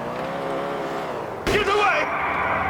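In GTA 4, a car slams into the back of another car with a sharp sudden impact midway, set against a steady engine drone, with a voice talking over it.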